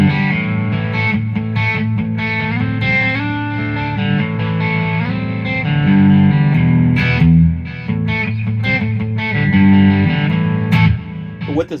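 An electric guitar with a Seymour Duncan Phat Cat P90-style bridge pickup plays distorted chords and riffs through a Bad Cat Cub amp, loud and close, with sustained crunchy notes and short pauses, no talking.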